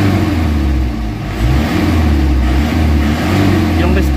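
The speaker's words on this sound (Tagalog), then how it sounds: "kita nyo na yung galit ng makina" A car engine revs after an engine treatment, a steady loud low-pitched drone with rising and falling bursts of throttle, running continuously close by.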